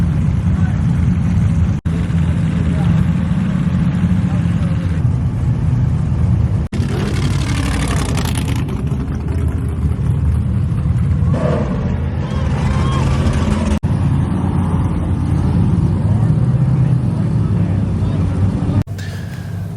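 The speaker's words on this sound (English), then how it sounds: "listening to all these big cars line up and rumble" Big off-road race cars sit lined up at King of the Hammers, engines idling in a deep, continuous rumble near and far while a person talks over them.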